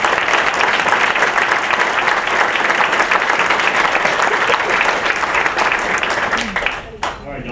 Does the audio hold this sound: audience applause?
yes